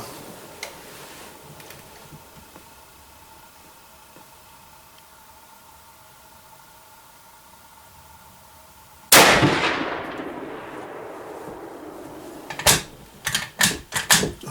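One sharp, loud rifle shot firing a 139 grain Hornady load cracks out and decays, followed a few seconds later by a quick series of metallic clicks and clacks from the action.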